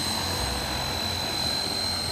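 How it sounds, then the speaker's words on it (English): A small UAV powered by a two-stroke or brushless electric engine, its propeller giving a steady, continuous droning whine with a high pitched tone, loud and unbroken throughout. "This aerial vehicle is propelled either by a two-stroke or a DC brushless engine."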